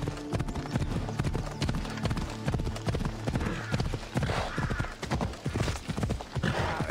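Horse hooves clip-clopping in the video game Assassin's Creed Odyssey, a loud, close, rapid galloping rhythm that runs steadily throughout, with a brief whinny-like sound and no talk.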